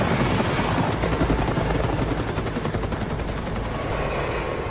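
Helicopter arriving, its rotor chop a dense, steady thumping roar that stays loud and close and eases slightly toward the end, heard in a film scene.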